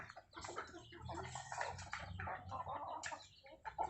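Free-range backyard chickens kept for eggs cluck and murmur continuously in a close, busy chorus, with overlapping soft calls and occasional louder squawks.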